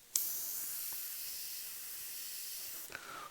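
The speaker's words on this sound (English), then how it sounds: "I want to aim my airbrush in the direction that I want the blend" An airbrush sprays black and grey paint onto a skull design on a motorcycle saddlebag, a close, even hiss that starts abruptly and runs for nearly three seconds before cutting off in a quiet room.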